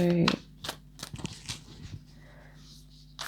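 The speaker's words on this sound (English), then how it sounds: "pardon me while I just grab these cards. And I'll just have a quick shuffle" Tarot cards riffled and shuffled in a few quick, crisp bursts close to the microphone, with a voice speaking in between.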